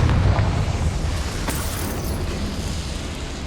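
A Confringo spell in Hogwarts Legacy goes off as a loud fiery explosion, a heavy burst at the start that trails into a rushing, crackling roar that slowly fades.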